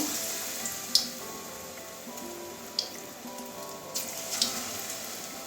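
Water lily flowers coated in gram flour batter fry in oil with a faint, steady low sizzle, punctuated by a few sharp crackles and pops.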